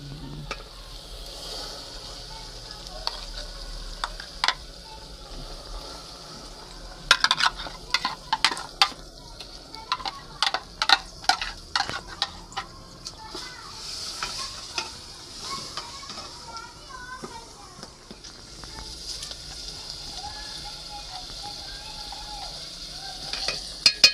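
Saag goes into a pan of fried onions in a village kitchen, where it sizzles steadily while sharp stirring scrapes and clatters come in bursts, close up, with occasional speech in the background.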